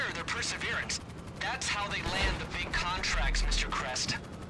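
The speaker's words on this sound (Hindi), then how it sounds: "उड़ा दिया एक प्लेन, दूसरा उड़ा दिया।" Heavy gunfire and explosions as planes are shot down during a GTA Online Doomsday Heist setup mission, a dense, continuous barrage with low booming hits, while voices talk over the action throughout.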